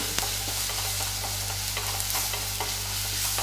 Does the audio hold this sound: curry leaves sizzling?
yes